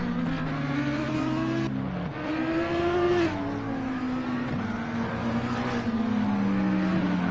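Race cars at the Nürburgring roar into turn one, several engines overlapping with rising and falling pitch as they pass and downshift, loud and close, with no talk.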